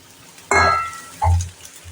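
Snake gourd pieces drop into a pan of softened onions, sending up two sharp bursts of sizzling frying, each flaring loudly and then easing back toward quiet.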